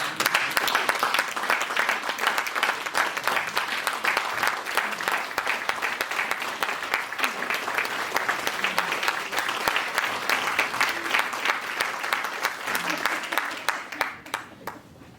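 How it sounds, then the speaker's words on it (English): A seated audience rises into a standing ovation for the writers, dense sustained applause filling the room at full loudness for about fourteen seconds before thinning out at the very end. "give them a standing ovation"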